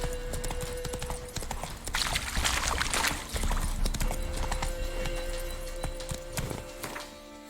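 Roach the horse trotting in The Witcher 3, with rhythmic hoof clip-clops and a brief whinny over ambient game sound, fairly close and steady.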